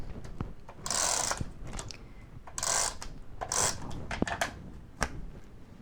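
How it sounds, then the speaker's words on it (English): A handheld tape runner rolls adhesive onto paper in a series of short, close, ratcheting zips, several quick strokes in irregular rhythm with ticks and clicks between them, no voices. "for sake of speed, I'm going to use my tape runner."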